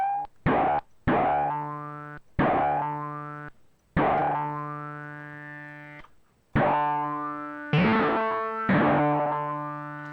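A series of bright, buzzy Arturia MicroBrute analog synthesizer notes, each struck sharply and decaying, with resonant, sync-like twangy tones shifting between hits as filter frequencies change.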